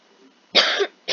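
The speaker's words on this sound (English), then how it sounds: "Yeah, this cough is driving me crazy now." A single person gives a harsh, close cough burst lasting about a third of a second, followed by the start of a second cough, with quiet room tone before it.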